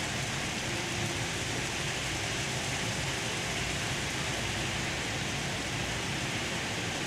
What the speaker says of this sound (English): What's that noise? That's the rain.